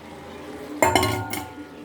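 Chopped radish is tipped into a pan of cooking greens, giving a brief metallic clatter and clink of utensil against the pan, close and fairly quiet.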